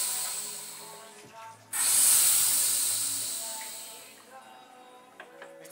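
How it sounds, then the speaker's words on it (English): Coolant drains from the engine of a 1998 Honda Civic with a sudden loud hiss that gradually fades over a few seconds, preceded by faint background noise. "I think that's good enough for draining the coolant."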